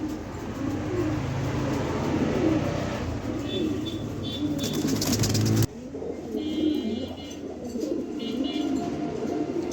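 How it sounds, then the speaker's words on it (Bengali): Red checker pigeons coo in low, repeated throaty calls at a pigeon seller's loft, close by amid other bird sounds and a steady background rumble, with faint voices at times. "এখানে আরেক পেয়ার রেড চেকার কবুতর দিলাম"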